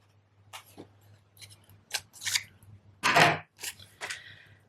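Scissors cut a piece off a strip of Stampin' Dimensionals adhesive foam during card making, a series of close, crisp snips and paper rustles in an otherwise quiet room under a faint hum.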